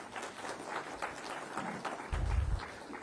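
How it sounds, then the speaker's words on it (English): Applause for Amitabh Kant at the India Today GI Samagam event comes in as moderately faint, scattered clapping from a hall audience. A low thump swells near the end. "let's give him a very warm round of applause for that"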